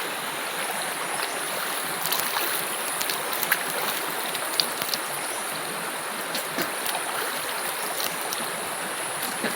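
Cold water in a forest stream rushes steadily in a continuous close hiss, with small splashes scattered through it as someone washes their face.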